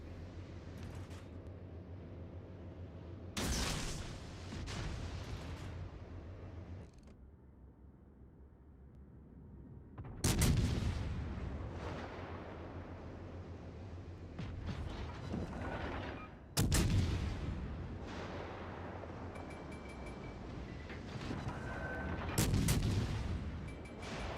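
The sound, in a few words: battleship firing guns in a video game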